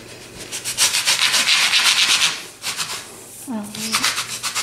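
A pastry cutter wheel rolls across griwech honey-pastry dough in repeated fast rubbing strokes, close and fairly loud, pausing briefly before resuming, with a short vocal sound near the end.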